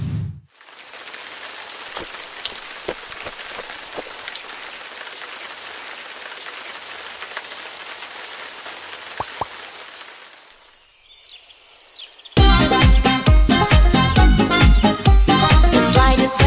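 Steady rain falls and patters on surfaces as a soft hiss sprinkled with distinct droplet taps, then gives way to a children's song with music near the end.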